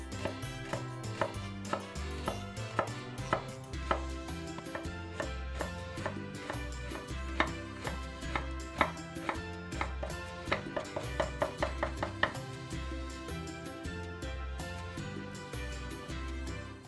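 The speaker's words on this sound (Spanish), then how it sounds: "La picamos en cubitos bien chiquitos." Knife chopping half an onion into small cubes on a cutting board, a quick run of sharp, close taps that speeds up and thins out, with music playing underneath.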